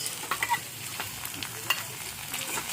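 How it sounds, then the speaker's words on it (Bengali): Prawns and onion with chopped green chilli fry in a pan, giving a steady soft sizzle with scattered crackles and a few sharp pops and spatula clicks, close and on its own. "দেখো চিংড়ি মাছ আর পেঁয়াজটা ভাজা হয়ে গেছে"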